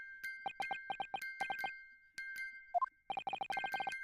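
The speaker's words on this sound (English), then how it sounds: "Just what relevance do you propose this woeful chiming has on this case?" A music box from the game The Great Ace Attorney Chronicles plays a slow, melancholy tune of bright plucked metallic chimes in quick clustered notes with short pauses, faint and alone against a steady sustained tone.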